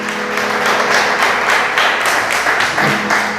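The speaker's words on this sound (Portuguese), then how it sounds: "Vamos aplaudir ao Senhor" A church congregation applauds the Lord together, a full, steady wash of clapping with a loose rhythmic pulse over a faint sustained keyboard tone, loud and continuous throughout.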